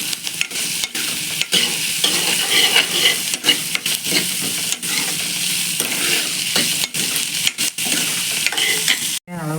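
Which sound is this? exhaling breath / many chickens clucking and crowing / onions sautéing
onions sautéing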